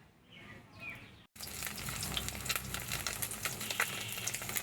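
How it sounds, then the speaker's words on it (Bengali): Stinging catfish sizzling loudly in hot oil after a short quieter lead-in, a dense steady crackle with spitting pops carrying on to the end. "মাছটা তেলে দিলাম দিয়ে ভালো করে ভেজে নেব মাছটা"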